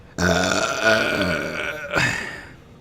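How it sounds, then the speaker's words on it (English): A long, loud, drawn-out human burp heard alone, rumbling for nearly two seconds before a second shorter belch follows. "there's the burp"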